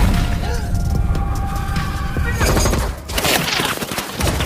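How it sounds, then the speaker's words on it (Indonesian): Film gunfire in a battle scene in the desert, dense bursts of shots and booms mixed with shouting voices and whinnying, loud and continuous across the clip. "Anggota tim melihat pria itu dan langsung menembaknya."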